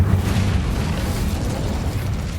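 The Incendio fire spell cast in Hogwarts Legacy gives a loud, steady whooshing roar of flame with a deep rumbling body, sustained evenly throughout without pause.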